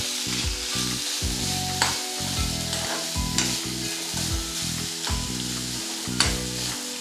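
Chopped tomatoes sizzle steadily in a hot frying pan for paneer bhurji, with a loud, continuous crackle broken by repeated stirring scrapes.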